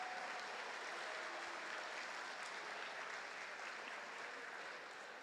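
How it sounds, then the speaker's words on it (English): Steady, even applause from an audience at a FIRST robotics district event in Texas, heard as a dense wash of clapping that carries on evenly throughout. "give them a round of applause"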